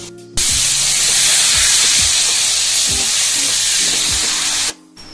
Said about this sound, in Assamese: এয়া চাওক মাছৰ মূৰ ফ্ৰাই হৈ গ'ল